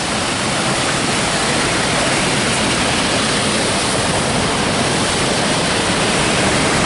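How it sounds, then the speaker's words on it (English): A waterfall on a river along the Lake Superior shore roars in a steady, dense wash of sound that never lets up. It is loud and close, with no voices. "We're starting to hear water thundering."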